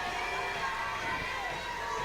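Parade crowd at a Tulip Time Festival volksparade cheering for the Oscar Mayer Wienermobile, a distant, steady wash of crowd noise and cheers with voices mixed in.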